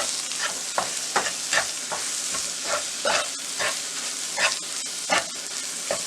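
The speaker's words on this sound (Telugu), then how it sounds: "1 స్పూన్ కారం, 1 స్పూను కస్తూరి మేతి, 2 స్పూన్లు home made pav bhaji masala, salt వేసుకొని కలుపుకోవాలి." Pav bhaji masala, chili powder and kasuri methi being stirred into tomatoes sizzling in a pan, with a steady frying hiss broken by repeated scraping strokes of a spoon at an even rhythm.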